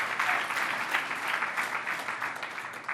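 A religious gathering's audience claps in appreciation of a member's service, a fairly soft but continuous round of many hands clapping with no pause.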